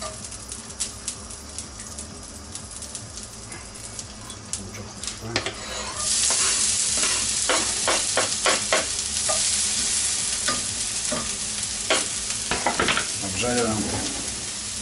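Butter sizzles and spits in a hot pan, quiet with occasional clicks at first, then a loud, steady crackle takes over partway through with sharp utensil scrapes and stirring knocks over it.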